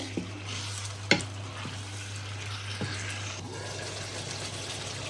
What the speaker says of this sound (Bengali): মাংসগুলোকে আগে মশলা আর একটু কষায় নিব।